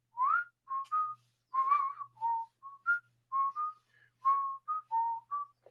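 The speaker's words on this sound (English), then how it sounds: "Yeah, you can whistle." A person whistles a short melodic tune, clear, close phrases of bright pitched notes with brief pauses between them, alone with no other sound.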